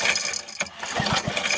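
A Briggs and Stratton engine on a salvaged pressure washer being pull-started, sputtering and catching into a brief rough engine rumble, close and moderately loud, with no talk.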